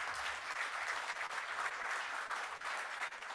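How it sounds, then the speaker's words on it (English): An audience at a congressional panel summit applauds members of Congress, dense steady clapping from a crowd that holds throughout, heard at a slight distance. "Give them a round of applause."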